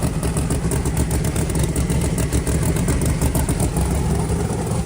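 A big Hemi engine roars steadily on a dyno, a loud, continuous, dense rumble that holds at one level throughout with no talking.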